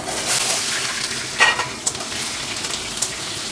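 Potatoes sizzling in hot oil with a pinch of five-spice seeds, a steady loud hiss with a few sharp crackles and spoon scrapes, close and alone.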